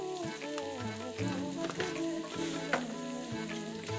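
Pork dish base frying in a pan with cumin, black pepper and turmeric, Assamese style, a steady sizzle with a few stirring scrapes, close and continuous, with music-like tonal lines running underneath.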